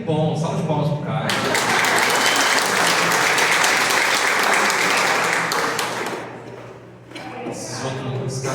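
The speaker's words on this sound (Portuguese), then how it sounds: "Que bom, salve de palmas pro Caio" An audience at a church gathering breaks into loud, sustained applause lasting several seconds, then it fades, with voices speaking before and after.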